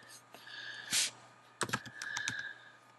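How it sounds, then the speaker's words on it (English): Keystrokes tapped on a computer keyboard, a scattered burst of quick close clicks with a brief pause between runs, fairly quiet over a low steady hum. "you can grab the text tool, type in there, Jeff."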